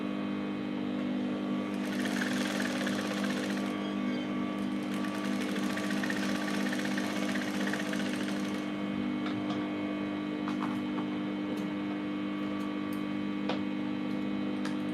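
A sewing machine stitching a straight skirt seam, running in a fast steady burst for several seconds over a constant low hum, then falling back to the hum alone.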